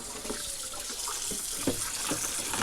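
Tap water runs steadily into a sink while clams are washed under it, a close continuous splashing hiss with small irregular sloshes and knocks from the shells being rinsed.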